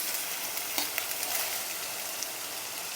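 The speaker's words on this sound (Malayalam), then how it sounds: "ഇനി ഇതെല്ലാം ഒന്ന് നമുക്ക് നന്നായിട്ട് വഴറ്റിയെടുക്കാം" Two medium onions and curry leaves sauté in a hot pan with a dense, even hiss of frying and a few light stirring clicks, close up and without speech.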